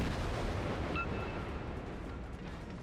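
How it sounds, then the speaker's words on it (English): Heavy booming gunfire from a warship in World of Warships, a dense rumbling roar that sustains and slowly fades, with a faint high ping near the start. "let's fire guns"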